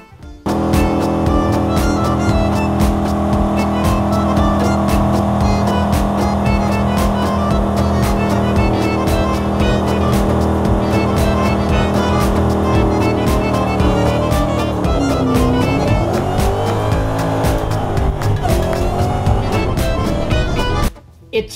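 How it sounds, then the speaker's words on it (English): A Ford Mustang S197 fitted with a new throttle body and cold air intake does a burnout, its engine roaring loud and steady for about twenty seconds with a rising, falling rev near the end and some squealing tires underneath. "We're gonna go do a burnout"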